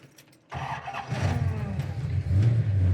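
A 1969 Plymouth Road Runner's 383 V8 engine cranks and catches, then settles into a steady, rumbling idle close by, with no one speaking.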